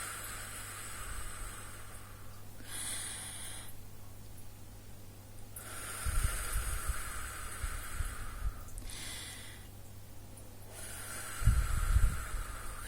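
Slow mouth breathing during a relaxation exercise, long airy exhales and inhales alternating in a steady cycle, close and fairly quiet with no talking.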